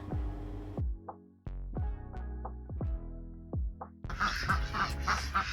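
Ducks and geese at a park in Bang Krachao, Thailand, give a run of close, loud honks and quacks in quick succession, ending with a busier burst of overlapping calls and background noise.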